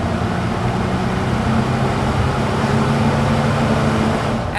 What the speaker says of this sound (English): a little Vortec motor runs well